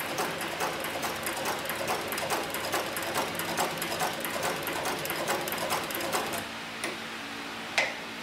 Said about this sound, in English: I'll place the machine back into the forward stitch, and we're going to put a little bit smaller stitch on the machine here